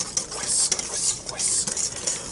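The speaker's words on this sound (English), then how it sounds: "And whisk that together." A whisk scrapes and taps rhythmically in a bowl, mixing dry baking soda and baking powder for a red velvet cake, a quick run of close, uneven strokes.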